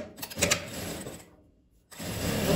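A sewing machine stitches straight along fabric pieces in a bursty mechanical whir that pauses briefly, then starts again, close and fairly quiet with no talk.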